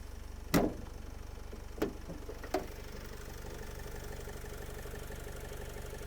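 A 2013 Opel Vivaro passenger van with a 2.0 diesel engine idles quietly and evenly, a low steady rumble broken by a few sharp clicks or knocks near the start.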